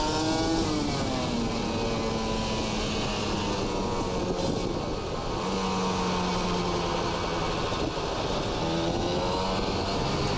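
A Kawasaki Ninja RR two-stroke motorcycle with an R9 Neo Mugello Carbon racing exhaust revs loudly and continuously, its raspy crackling note rising and falling through repeated throttle blips at close range.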